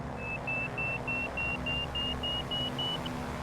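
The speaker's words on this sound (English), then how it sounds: "But you can hear the stall warner, and the nice thing about the stall warner is it gets kind of higher pitch the closer to the stall you get." Stall warning horn in Microsoft Flight Simulator, a steady series of short high-pitched beeps repeating about three times a second over a low engine rumble, rising slightly in pitch as it continues.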